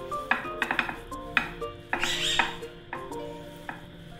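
Minced chicken chapli kebab mixture being mixed in a bowl: a close series of irregular light clinks and scrapes, with brief soft squelching between the taps.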